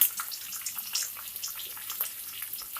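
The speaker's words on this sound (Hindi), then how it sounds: "प्याज है, इसको फ्राई कर लेंगे।" Chopped onions frying in a pan, a steady soft hiss and crackle of sizzling oil throughout, fairly faint and without talk.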